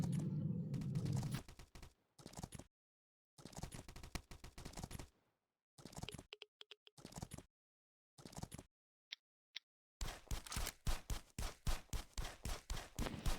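Rapid gunfire and bazooka blasts from the Last Island of Survival shooting game come in dense bursts, with sharp bangs and silent gaps between the volleys.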